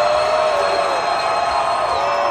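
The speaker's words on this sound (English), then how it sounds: "Here comes that Seattle crowd once again." A Seattle crowd at a Legends Football League game roars in a sustained, dense wall of cheering that stays loud and steady throughout.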